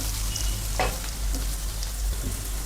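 Onion and four chopped green chillies sautéing in a pan for a spiced Maharashtrian brinjal rice, a steady sizzle throughout with a brief louder stir scrape near the start, no voices.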